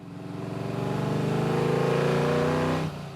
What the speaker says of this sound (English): There's nothing like the rumble of a V8.